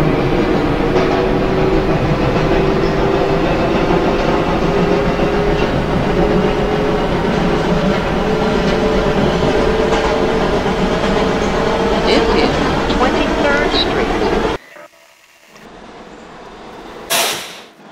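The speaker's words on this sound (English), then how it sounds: "This is a Times Square 42nd Street bound 5 train via the 7th Avenue line." In the OpenBVE train simulator game, a New York subway 5 train on the 7th Avenue line runs with a loud, steady rumble and rattle for about fourteen seconds, then the noise cuts out abruptly and a quieter stretch follows.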